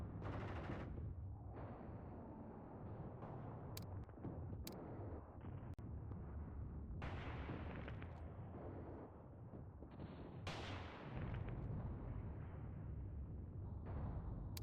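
Dense machine-gun fire and explosions in the World War II strategy game Mius Front, a constant rumbling barrage of overlapping bursts and booms with sharp cracks, fairly distant and steady.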